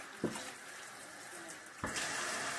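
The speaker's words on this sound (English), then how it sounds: "So I'm going to get some hot water over here." A hot-water tap turns on and runs into a sink partway through, a steady close rush of water that follows a brief knock, with no talking.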